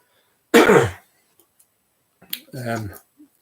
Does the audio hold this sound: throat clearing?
yes